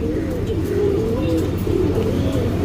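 A pigeon coos close by in soft, repeated throaty rolls, loud and near with a faint background hum.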